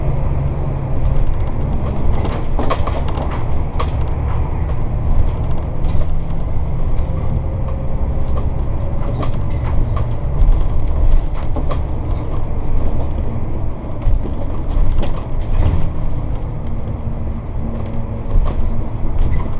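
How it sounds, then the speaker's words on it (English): Sportscoach diesel motorhome rolling over a series of speed bumps, a steady loud low rumble from the cabin interior with rattles, knocks and creaks of the shaking body throughout, no talk. "we're actually just going over a few speed bumps"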